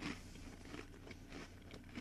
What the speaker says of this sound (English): Well, not right now because I'm chewing